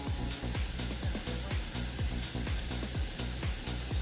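Oil heats in a frying pan for Jamaican escovitch fish, giving a steady bright sizzling hiss over a rhythmic thumping beat.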